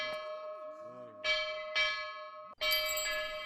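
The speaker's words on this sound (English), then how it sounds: "Festival stuff. Ring the bell." A festival bell rings in an anime scene, three clear resonant strikes with long humming tails, the last one brighter and sustained, heard alone without talking.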